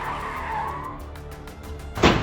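A stolen car's engine revs hard with tires skidding during a carjacking, the roar steady and close, then a sharp, loud burst of screeching noise near the end.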